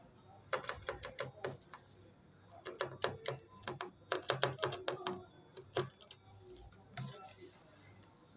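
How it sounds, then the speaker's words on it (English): Zigzag scissors cut fabric for a handmade purse, producing close, crisp snipping clicks in quick irregular bursts with short pauses, and no talking. "I'm going to be using my zigzag scissors to follow the"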